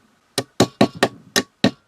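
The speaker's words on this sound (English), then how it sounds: "And then we just reinstall our pins." Metal pins of an IWI Masada Slim 9mm pistol frame being pushed or tapped back into place during reassembly: six sharp, close clicking knocks in an uneven rhythm, each short and distinct against silence.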